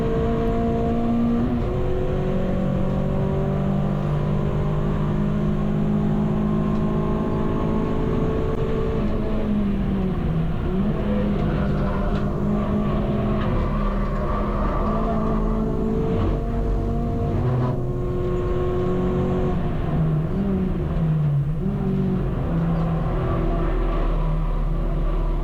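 A race car laps Brands Hatch during a trackday championship round, its engine loud and close from the cockpit, revving and shifting with rising and falling pitch throughout, and another car briefly nearby.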